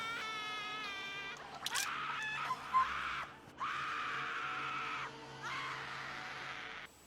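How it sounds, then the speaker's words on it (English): High, wavering screams from the horror film Within the Woods (Camp Blood 3) ring out over a quiet background, one short shriek followed by longer sustained wails with brief gaps between them. "That scream doesn't sound awfully convincing"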